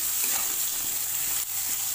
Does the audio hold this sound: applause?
no